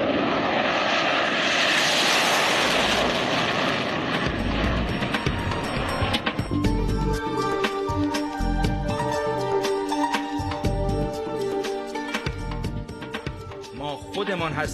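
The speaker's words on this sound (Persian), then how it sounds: "همین قرش هواپیمای کوثر توی آسمان" A HESA Kowsar jet trainer roars overhead in a loud, broad wash of engine noise that fades after several seconds, giving way to music and other sounds.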